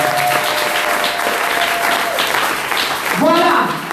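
A church congregation applauds and acclaims Jesus, with a dense, steady wash of clapping and overlapping voices that lasts the whole moment, close and loud, with a raised voice rising near the end.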